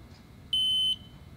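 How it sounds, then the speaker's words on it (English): A single short electronic beep from a gas detector powering on, clear and high-pitched, lasting under half a second against quiet background hiss. "The unit will beep."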